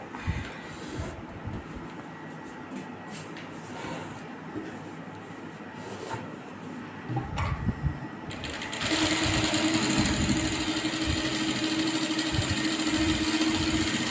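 A sewing machine stitching a blouse starts after a stretch of quiet shuffling and handling noises, then runs as a steady, continuous whirring hum for the last several seconds.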